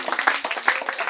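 A church congregation claps together in a quick, uneven burst of close, lively hand claps that lasts only about a second.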